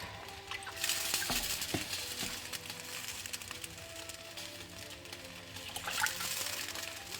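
Dye liquid is poured into a dye bath, giving a continuous splashing, trickling pour with a few clinks of a container, fairly faint and close with no talking.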